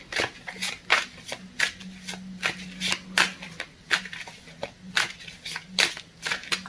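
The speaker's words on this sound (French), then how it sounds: "Je vais placer ça comme ça et prendre d'autres cartes" Tarot cards are handled and shuffled at close range: a run of crisp, rhythmic riffling snaps and flicks repeating every fraction of a second, with no talking.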